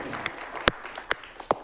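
A handful of scattered claps from the audience at a live improvised comedy theater show, sharp and separate, without building into full applause.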